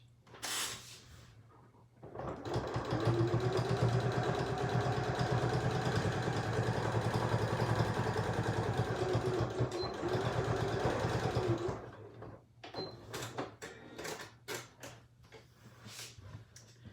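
A sewing machine runs a continuous stitch along the side seam of a bag, a close, steady rapid mechanical whir lasting about ten seconds, with handling clicks and fabric rustle before and after.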